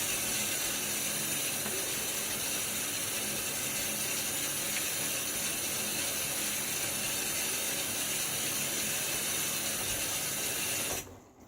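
Water runs steadily from a tap while a safety razor, a Blackland Dart with a Gillette Platinum blade, is rinsed; a continuous broadband hiss stays loud and even before cutting off abruptly near the end.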